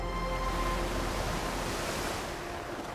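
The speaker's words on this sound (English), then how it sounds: "Cast adrift, they were pitched into the sea and washed away by waves." Ocean waves wash steadily over the sea off Canada, a continuous close broadband surge that swells at the start and eases slightly toward the end, with no voices.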